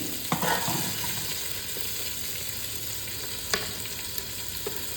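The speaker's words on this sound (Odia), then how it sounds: "ଏବେ ଚିକେନ୍ ପୁରା ଫ୍ରାଏ ହେଇଗଲା, ଏବେ କଢ଼ା ହେଉଛି" Chicken pieces fry in a wok for a country-style chicken curry, giving a steady broadband sizzle with a few sharp scrapes of stirring near the start and middle, close and continuous with no talking.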